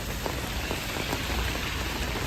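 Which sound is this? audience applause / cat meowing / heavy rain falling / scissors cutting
heavy rain falling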